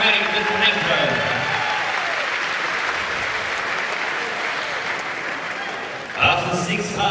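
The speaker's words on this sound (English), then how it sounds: "Let's give a big round of applause, ladies and gentlemen, these two fighters, Tom Ford" A crowd at a boxing event applauds the two fighters after six rounds, loud continuous clapping and cheering that fades slightly before a voice cuts in near the end.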